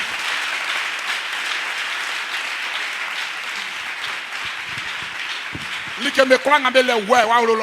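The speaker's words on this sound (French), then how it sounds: "Acclame encore Jésus" A church congregation claps and cheers in a steady wash of applause, loud and continuous, then a preacher's voice cuts in over the end of the clapping.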